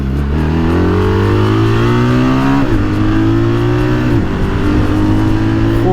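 BMW 1300 RT Triple Black 2025 motorcycle engine while riding, a loud, steady close drone whose pitch climbs through the gears, dropping briefly at each of two shifts before rising again.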